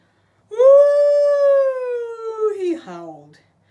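A single long, rising then slowly falling howl, clear and close, ending in a wavering drop.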